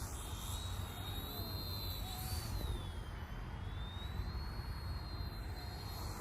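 An Eachine E110 RC helicopter flies over an open park field, its rotor and motor giving a steady, high whine that rises and falls in pitch as it maneuvers, continuous and fairly close with no talking.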